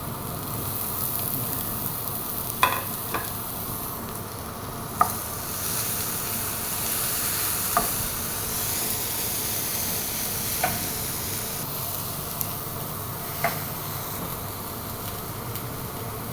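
Onion, garlic and chili fry in a pan with a steady, moderately loud hiss, punctuated every few seconds by a single sharp tap or clink of a utensil, with no voices.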